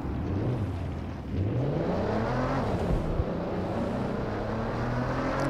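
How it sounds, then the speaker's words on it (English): A car engine accelerates and revs in Watch Dogs: Legion, its rising and falling tones shifting through gears in a loud, continuous drive with no talking. "This car sounds awesome."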